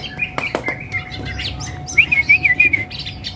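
A songbird sings a bright, warbling phrase with quick chirps and a sustained trilling run, fairly close over quiet background noise.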